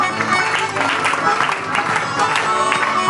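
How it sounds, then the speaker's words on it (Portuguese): An audience claps steadily at a Mamulengo Fuzuê puppet show at a street fair. The dense clapping runs the whole way through, mixed with music and voices. "cadê as palmas?"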